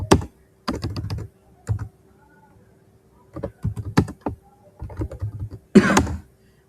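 Bursts of typing on a computer keyboard as a workflow name is entered, clusters of quick clicking keystrokes separated by short pauses, close and clear, ending with a louder key press.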